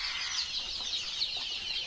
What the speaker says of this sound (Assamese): এই লোকেল মুৰ্গী